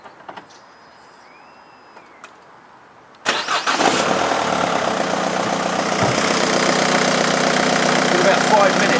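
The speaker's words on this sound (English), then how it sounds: "Let's get the van warmed up." A van engine cranks and catches after a quiet start, then settles into a steady, loud idle as it warms up before an oil change, running continuously to the end.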